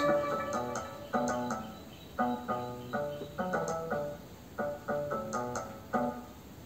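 A bass line programmed in FL Studio for a melody flip of Avicii's Wake Me Up, heard as a series of punchy, decaying note hits in a repeating rhythm, moderately loud and alone.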